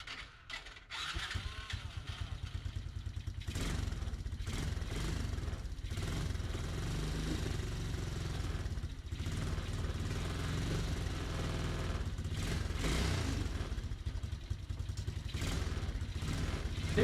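A used ATV four-wheeler engine runs after a bump start, idling with a steady, rough mechanical clatter and putter close by for the whole stretch, after a brief scuffle at the start.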